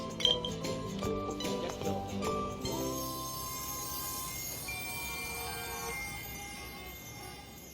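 Glasses clink together in a toast, a few bright ringing taps at the start that fade into a sustained shimmering ring, with no talk over it.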